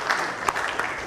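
Audience applause at a Ghana Institute of Engineering manifesto series launch, a short burst of dense clapping from a seated crowd after a talk on artisanal small-scale mining, steady and moderately loud with a few sharper claps.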